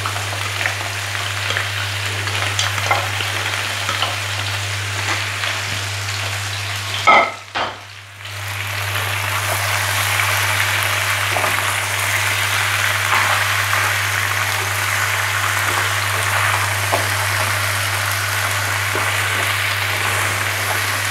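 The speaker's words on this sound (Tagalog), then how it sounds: "gisa ng ating bawang at sibuyas. So, ilagay na natin ang alimasag at hipon." Loud, close sizzling of garlic, onion, crab and shrimp sautéing in a pan for seafood kare-kare, a steady crackle with a brief stirring clatter and dip early on, over a constant low hum.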